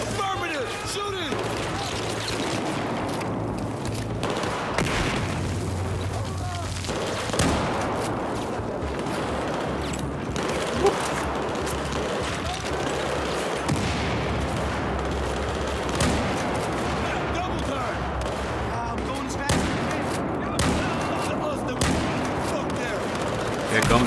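Gunfire and explosions in the video game Battlefield 4, with repeated rapid bursts of shots and booming blasts over about twenty seconds, while voices talk over the combat.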